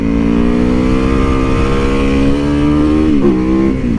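Motorcycle engine revving steadily on a cold winter ride, loud and close, with a sustained rising harmonic drone that dips and wavers briefly near the end.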